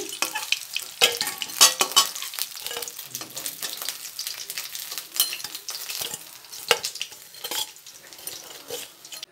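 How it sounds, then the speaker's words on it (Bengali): Fish frying in hot oil crackles and sizzles up close, with intermittent clinks and scrapes of a utensil against the pan as the fried pieces are lifted out. "ভাজা হয়ে গেছে আমি মাছটাকে তুলে নিচ্ছি"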